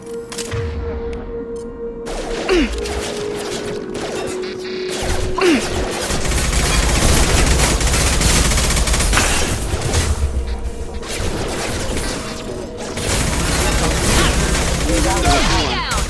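Heavy gunfire from Fenris mechs in the video game Mass Effect 2 rattles through a battle scene as sustained, loud bursts and crashes with brief lulls, mixed with game music and effects.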